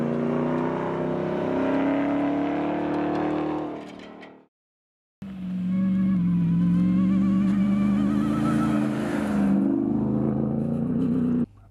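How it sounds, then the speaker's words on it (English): A 2021 Ram 1500 TRX pickup accelerating hard, its exhaust pipes giving a loud, deep rumble that climbs in pitch, broken by a brief silent gap before the rumble returns and builds again. "when you romp on it and you really get going in this, that pipe rumble gets wonderful"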